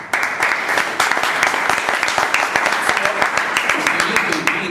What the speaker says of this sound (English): Shall we give ourselves a big round of applause?